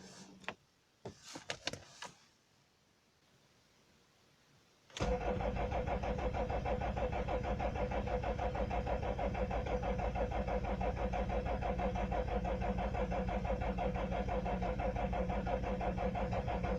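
A BMW E46 320d diesel on a cold start with cooled glow plugs: a few short cranking bursts, a quiet pause, then a sudden loud, steady engine clatter that runs on to the end with no voices.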